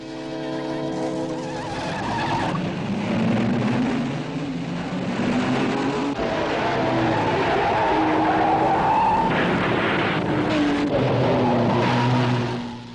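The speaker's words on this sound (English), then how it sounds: "It's real hairy racing." Big-engined race cars at Indianapolis in the early 1930s roar loudly and continuously, engine pitch rising and falling as they charge through the field, with a squeal of tires on the track.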